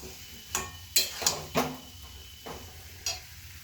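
Mixed vegetable curry with bori, green chilli and ginger cooks in a pan, its juices released. A few quiet spatula scrapes and clinks sound over a faint sizzle.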